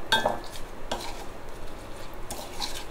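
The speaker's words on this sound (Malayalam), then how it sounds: "നന്നായി അങ്ങ് മിക്സ് ചെയ്ത് കൊടുക്കുക." A spoon scrapes and clinks through a pot of yam and date pickle, a few soft, close stirring strokes spaced out over quiet background.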